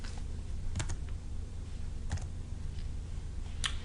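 Typing on a keyboard at a Stratasys J750 3D printer's embedded computer, a few sparse, faint clicks spread across a steady machine hum, with no talk.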